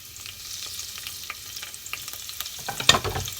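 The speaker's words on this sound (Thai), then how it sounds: "ใส่กระเทียมลงไปก่อน" Garlic sizzling in hot oil in a pot for pumpkin soup, a steady close frying hiss with stirring scrapes and a louder burst toward the end.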